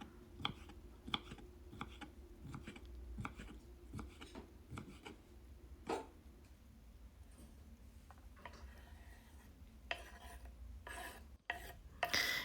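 A knife finely chops pickled cucumbers on a board, giving quiet, rapid, evenly spaced taps that slow into scattered clicks and a few louder knocks near the end.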